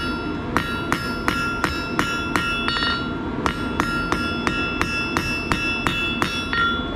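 A blacksmith hammers down the scarf edges of hot iron on an anvil before a fire weld, sending out a steady run of sharp ringing metallic strikes at an even pace, close and loud, with no voices.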